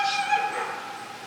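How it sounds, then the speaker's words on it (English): Several dogs bark and yip at a distance around a backyard beehive, a brief cluster of overlapping high barks and whimpers with steady outdoor hum beneath. "And there go the dogs on cue."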